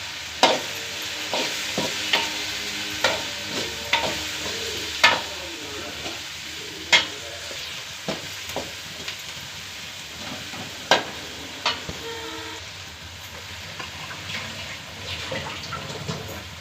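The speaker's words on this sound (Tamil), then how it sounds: "காஞ்ச மிளகாத்தூள் நல்லா வதக்கி விட்டுக்கலாம்" Dried chili powder sautés in a pan with a quiet sizzle, and a spoon stirs it in a regular rhythm of scrapes and taps.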